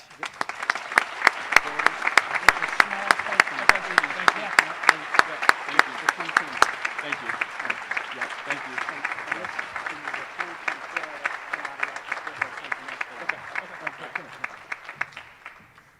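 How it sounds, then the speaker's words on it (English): An audience at an eighth-grade school awards ceremony breaks into sustained applause, dense clapping that holds steady and then thins out toward the end. "Applause."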